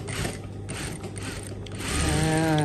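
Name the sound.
sewing machine stitching waistband elastic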